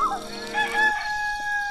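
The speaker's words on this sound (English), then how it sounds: "This rooster wakes me up every single day." A rooster crows in the video game Black & White 2, one loud, close cock-a-doodle-doo that rises and then holds a drawn-out final note, with no talk over it.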